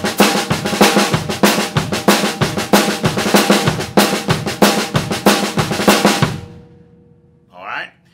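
A drum kit plays a fast train beat with a doubled left hand, steady rapid snare strokes under regular accented hits, close and loud for about six seconds before stopping and ringing out, followed by a brief voice.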